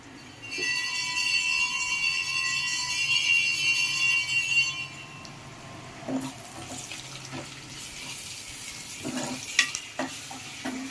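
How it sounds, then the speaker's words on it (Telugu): Ginger garlic paste fries with onions in a pan: a steady, close sizzle with occasional stirring scrapes, first under a tonal hum that later drops away. "అల్లం వెల్లుల్లి పేస్ట్ కూడా పచ్చివాసన పోయేంత వరకు అయితే వేయించుకోవాలి."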